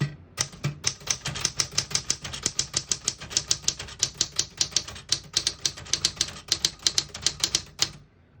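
A 1960s Smith-Corona Riviera portable typewriter is typed on steadily, giving a rapid, even run of sharp, high-pitched key strikes heard up close for several seconds before stopping, with no talking.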